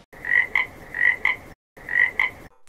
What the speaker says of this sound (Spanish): Sí, es una rana.